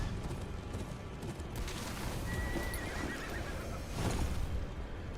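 Horses neigh and whinny amid clattering hooves and battle noise during a fight in the Game of Thrones: Kingsroad video game, a busy, dense mix with low booms.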